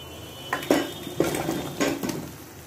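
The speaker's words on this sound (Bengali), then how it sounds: "চিনি গলে গেছে, এবার জলপাইগুলো দিয়ে দিব।" Olives dropped into melted sugar in a pan, three separate splashy clatters with a soft sizzle after each, close and clear with no talking.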